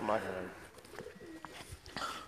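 Teddy pigeons cooing softly in a few low, rolling calls close by, mixed in with people talking.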